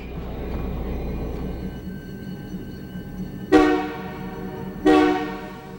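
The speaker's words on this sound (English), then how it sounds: "A few minutes later, train number 15, the westbound Ocean, arrives from Halifax." The westbound Ocean passenger train arriving from Halifax sounds two loud, blaring horn blasts close by, each with a sharp onset and a lingering tail, over a low rumble of rail movement.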